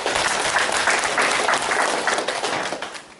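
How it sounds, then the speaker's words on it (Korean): A roomful of people at a provincial citizens' jury preparatory meeting in Gyeongbuk applaud steadily, dense continuous clapping that holds for several seconds before easing slightly at the end. "박수 한번 좀 부탁드릴게요."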